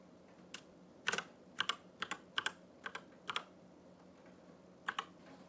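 A password is typed on a computer keyboard as sparse, quiet key clicks in small irregular clusters over a soft background hiss, with no one talking.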